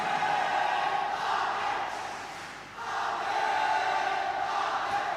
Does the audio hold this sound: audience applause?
yes